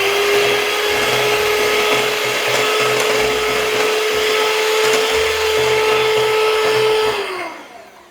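An electric mixer whirs steadily and loudly through cake batter for a marble cake with egg, holding a constant pitch for about seven seconds before winding down and stopping.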